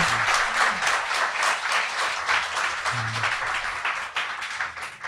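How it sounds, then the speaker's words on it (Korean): An audience at a talk-show recording breaks into loud, sustained applause that fills about five seconds, a dense close wash of clapping with no one speaking over it. "자, 박수 한번 부탁드립니다."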